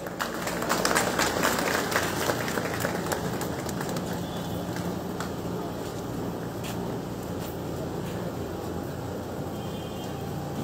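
A crowd at a Shiv Sena political meeting in Silvassa claps to welcome Kalaben, producing a dense, steady wash of applause that holds at an even level for about ten seconds.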